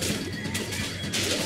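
Zombies smash against a door in the video game Dead Island: Epidemic, a harsh, continuous crashing and banging with a couple of heavier impacts.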